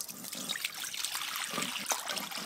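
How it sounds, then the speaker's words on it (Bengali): Taro root being washed with water for a rural-style vegetarian curry: a steady close trickle and splashing of water runs throughout, with small splashes and bursts on top. "কচুর, জল দিয়ে ভালো করে ধুয়ে নেব।"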